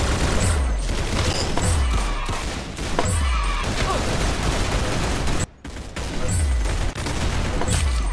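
Rapid, repeated gunshots in the Roblox game Arsenal, dense continuous volleys of loud close-up fire with a brief break near the middle, over constant in-game background noise.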